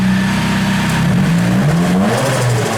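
A drift car's engine revs loudly and close up, a continuous throaty roar whose pitch climbs, dips and climbs again with no talk over it.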